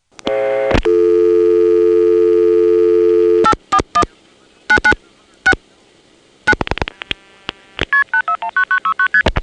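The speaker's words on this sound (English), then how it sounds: "The Occoquan MFs are quite loud" Loud telephone signalling tones on a line from the Occoquan exchange: a long steady tone, then rapid bursts of paired pitches in quick clipped sequences, crisp and close, with no voices.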